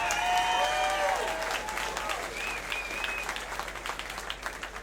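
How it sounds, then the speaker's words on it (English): Crowd applause at an OKC Fight Night bout between Josh Porcher and Iri Jetter, clapping and cheering with whistles at the start, gradually thinning and fading while voices carry over it. "Ladies and gentlemen, how about a round of applause for that magnificent fight?"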